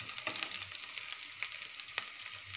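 Onion, chilli and semolina roast in a pan over low heat. A soft, continuous frying crackle is broken by light scraping stir strokes. No voices are heard.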